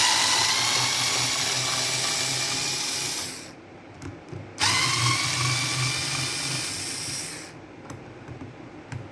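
A power screwdriver with a Torx 20 bit backs screws out of a Robot Coupe hand blender motor housing. It gives a loud, close, steady whirring hiss that stops briefly partway through and then runs again.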